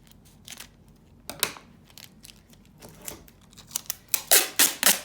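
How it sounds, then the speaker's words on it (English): Clear packing tape being pulled and handled close by while a DIY sizing tool is made, with scattered crinkles and sharp tearing strips that build into several loud rips toward the end. "Now we're gonna take our clear packing tape."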